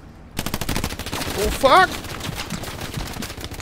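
Rapid automatic gunfire in the World War II shooter Hell Let Loose, a fast stream of close, loud bursts running nearly the whole clip, with a player shouting an exclamation partway through.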